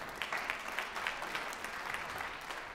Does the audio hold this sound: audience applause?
yes